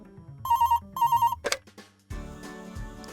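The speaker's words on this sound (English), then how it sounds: "my work phone rang" A work phone rings in a visual novel video game, two short electronic trilling bursts. A click and a blip follow, then background game music begins.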